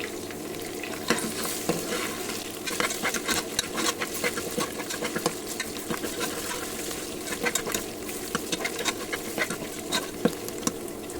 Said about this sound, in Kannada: ಶುಂಠಿ ಬೆಳ್ಳುಳ್ಳಿ ಪೇಸ್ಟ್ ಹಸಿ ಸ್ಮೆಲ್ ಹೋಗೋ ತನಕ ಫ್ರೈ ಮಾಡ್ಕೊಳ್ಳೋಣ.